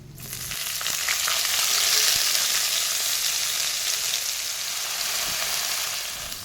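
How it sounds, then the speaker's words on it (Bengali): Potato and eggplant pieces dropped into hot oil in a pan, swelling into a loud, even, close frying hiss that holds steady and then eases slightly, with no talking. "আলু বেগুনগুলো 2 থেকে 3 মিনিট ভেজে নিতে হবে।"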